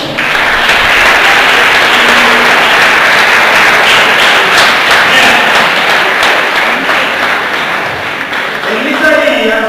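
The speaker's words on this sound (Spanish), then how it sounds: "Dale un aplauso al Señor." A church congregation claps loudly and continuously, a thick wash of applause with some voices mixed in. It thins slightly near the end.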